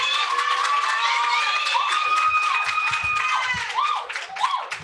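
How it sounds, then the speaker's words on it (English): Audience at a student government presidential election debate claps loudly and steadily, a dense crowd applause with scattered cheers and whoops that swells then tapers near the end. "can we give our presidential candidates another round of applause?"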